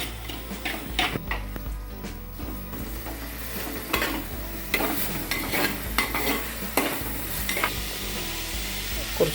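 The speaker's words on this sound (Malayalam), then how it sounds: "ആ നെയ്യെടുത്ത് അതിലേക്ക് കുറച്ച് ഒഴിച്ചു." Food sautéing in ghee in a pan, with a steady close sizzle, repeated scraping and clinking stirring strokes against the metal, and no talking.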